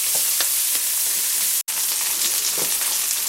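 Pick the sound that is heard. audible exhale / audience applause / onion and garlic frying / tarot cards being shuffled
onion and garlic frying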